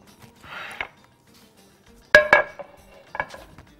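A Pyrex glass baking dish is handled on a kitchen counter while making chicken Alfredo lasagna, giving a soft rustle followed by a few sharp glassy knocks and clinks, close and clear with no talking.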